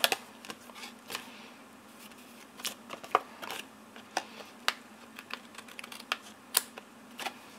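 Cutting a millimetre off a handmade greeting card, a string of quiet close clicks and small snips with scattered taps and paper handling, no voice.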